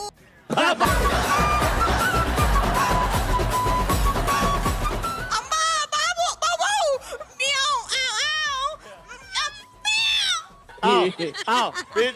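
A voice imitates a cat's meow several times in quick bursts, following a stretch of loud music, with other voices nearby.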